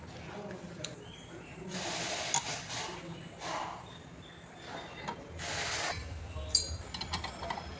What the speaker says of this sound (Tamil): இப்போ வாங்க கேலிபர் போட்டு டைட் பண்ணிக்கலாம்.